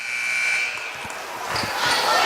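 An end-of-quarter buzzer sounds as a steady tone at a girls' high school basketball game in a gym, over crowd noise and a few ball bounces, with the crowd swelling afterward.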